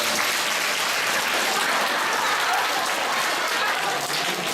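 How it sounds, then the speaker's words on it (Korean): An audience at a university English motivation lecture applauds steadily, dense clapping filling the room from start to finish with no talk over it. "한번 박수 한번 주세요."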